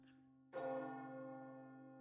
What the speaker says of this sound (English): The old church bell sounding.